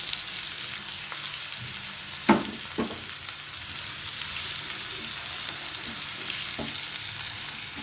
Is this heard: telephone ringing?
no